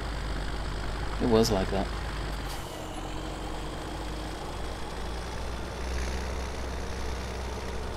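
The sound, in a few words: tractor engine in video game Farming Simulator 2017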